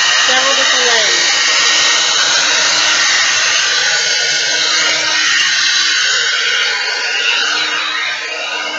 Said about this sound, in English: I'm going to blow dry it several different ways.